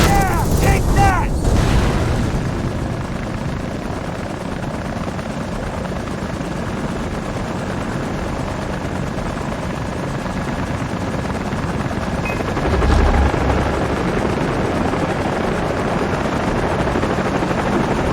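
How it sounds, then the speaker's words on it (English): Enemy helicopters in the Far Cry 3 video game: a loud, continuous rotor drone fills the scene, with booms and gunfire-like bursts near the start, steady and dense throughout. "No, they've got choppers!"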